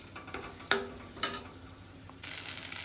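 Garlic rice mixture frying in a pan with a soft sizzle, two sharp clinks of a spoon stirring against the pan, then a louder hiss of frying toward the end.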